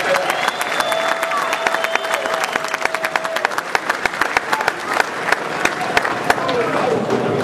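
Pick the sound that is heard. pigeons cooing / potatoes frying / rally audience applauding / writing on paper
rally audience applauding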